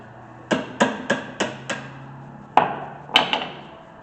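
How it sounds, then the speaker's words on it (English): A hammer knocks a rear electric brake part loose on a 2015 Lexus NX200t: about eight sharp metallic strikes, five in a quick even run, then a pause and three more close together, loud and near. "Knock it with a hammer to get it somewhat loose."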